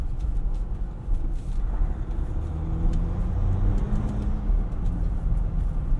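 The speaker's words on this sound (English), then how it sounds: "I love the turbo noises that this thing makes" A 2020 Jeep Wrangler Rubicon EcoDiesel drives along, its engine droning steadily from inside the cabin with a soft turbo whine rising gently under the road rumble.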